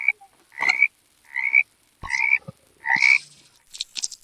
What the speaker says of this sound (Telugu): ఓ గైస్ ఓ కప్పలు వచ్చి మనకు అవసరం కప్పలమా కప్పలు.